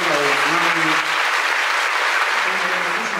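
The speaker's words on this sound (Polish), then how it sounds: "No to brawo dla Marty" An audience bursts into applause for a young woman named Marta at a charity gala, dense sustained clapping filling the hall while someone speaks over it.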